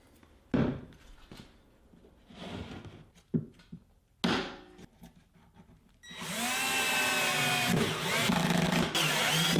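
A drill drives 1-1/4 inch coarse pocket screws into a glued butt joint of a shaker-style cabinet door frame, a loud steady whine lasting several seconds after a series of sharp knocks and thumps.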